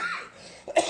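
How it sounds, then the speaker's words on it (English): A single cough bursts out late after a stretch of quiet breathy noise, from a person suffering a persistent cough, loud and close. "Coughing is just going to happen."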